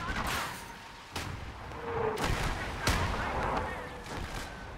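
Counter-battery artillery fire in the Gates of Hell war game lands as several heavy booming blasts spaced a second or so apart, loud and close, mixed with rumbling battle noise and someone talking over it.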